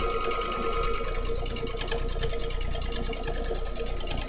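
A domestic sewing machine runs steadily throughout while free-motion quilting, its fast even needle rhythm droning up close with no talk over it.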